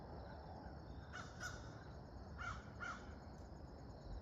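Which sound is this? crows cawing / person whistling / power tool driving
crows cawing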